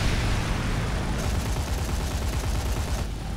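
An aircraft's cannons fire during a ground-attack run on a crater in an online combat flight game. Dense, rapid bursts of gunfire roar continuously at close range, loud and heavy, without a break.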